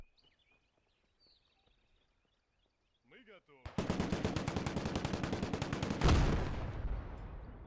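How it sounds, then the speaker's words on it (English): Sustained machine-gun fire in the WWII strategy game Gates of Hell: Ostfront, a dense loud burst of rapid shots that swells further toward the end, preceded by quieter faint game sounds. "he just keeps continuing to fire until you tell him to stop"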